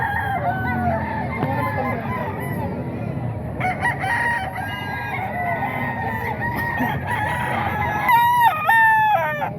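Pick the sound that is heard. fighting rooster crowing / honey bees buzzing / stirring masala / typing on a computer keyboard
fighting rooster crowing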